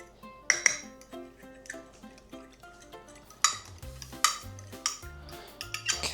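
Pancake batter ingredients being mixed in a bowl, with a run of close, quiet clinks and scrapes of a utensil against the bowl, irregular and sharper in a few spots, no voices.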